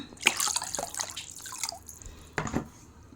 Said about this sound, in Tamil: இப்போ இதில் வந்து நம்ம நார்மல் தண்ணி கொஞ்சம் எடுத்துக்கிறோம்